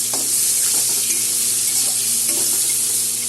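Chopped onion with green chillies and a little salt fries in a pan, giving a loud, dense, continuous sizzle broken by faint stirring scrapes throughout, with no talking.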